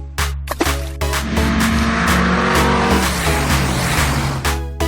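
A toy racing car sound effect plays as a loud, continuous motor whine with rising engine tones, broken by a few sharp clicks and bumps.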